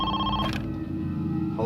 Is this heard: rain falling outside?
no